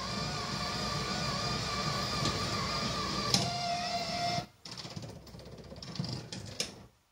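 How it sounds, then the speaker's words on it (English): A bus destination roller blind driven by an electronic keypad controller whirs mechanically, a steady motorized hum with a faint whine and clicks, then briefly stops and resumes more quietly with small knocks, close and alone. "which is the reason why you can hear the roller blind moving as well"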